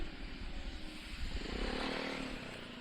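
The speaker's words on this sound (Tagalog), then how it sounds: "Padraging na naman ang motor." A motorcycle engine sputters and putters unevenly close by, a faint, rough rumble with choppy pulses that swells slightly midway.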